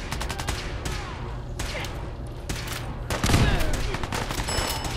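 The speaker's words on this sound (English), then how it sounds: "We're being shot at" Bursts of rapid gunfire in Fallout 4 against super mutants, sharp repeated shots in quick clusters with a heavier boom midway and continued firing after, loud and close.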